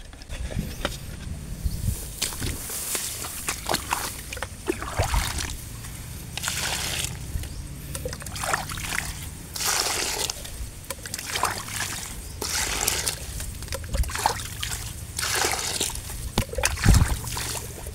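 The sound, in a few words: water pouring into a bucket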